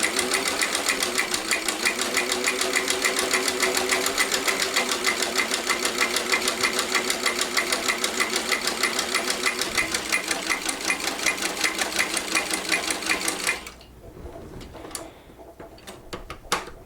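A sewing machine with a buttonholer attachment stitches a buttonhole in a loud, fast, steady mechanical whir with rhythmic ticking, running for about thirteen seconds before stopping, followed by faint handling clicks.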